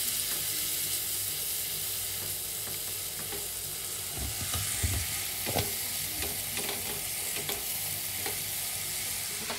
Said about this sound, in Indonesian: Lalu tumis bumbu yang sudah dihaluskan.